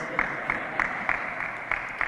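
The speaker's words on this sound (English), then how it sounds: "you could go ahead and clap" A lone person claps in a slow, steady rhythm, about seven claps over a soft room hum, at a senator's Hispanic Heritage ceremony.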